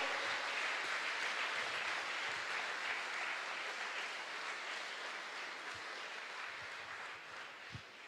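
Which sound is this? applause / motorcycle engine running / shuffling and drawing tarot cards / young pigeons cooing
applause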